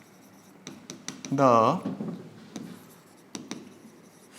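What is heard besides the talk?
writing on the board during a lesson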